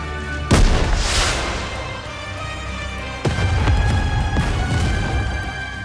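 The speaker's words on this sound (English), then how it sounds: "a shell flies from the rocket launcher. And a resounding explosion causes the entire snowfield to be blanketed in thick plumes of white smoke." Rocket launcher fired in the game GODDESS OF VICTORY: NIKKE on a snowfield: a sharp launch blast followed about three seconds later by a second loud, rumbling explosion, both booming and close with long reverberant tails.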